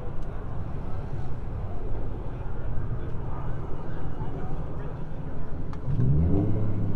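Car engines rumble and rev at a Cars and Coffee meet, with a steady low growl under people talking and a stronger rev rising near the end.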